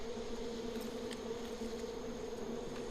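Hornets or bees buzz in the Far Cry 5 video game, a steady droning hum that stays close and even throughout, with no voices over it.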